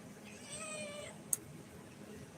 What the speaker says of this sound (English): Lord Ronnie, what's wrong with the cat?